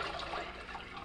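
Six pre-measured cups of water poured into a pot for green chile mac and cheese, a short continuous splashing rush at close range with no talking.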